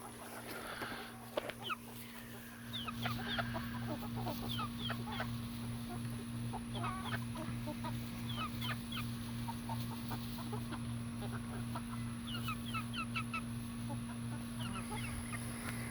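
Game hens and roosters cluck and chirp in short scattered bursts over a steady electrical hum, with a brief louder squawk near the start.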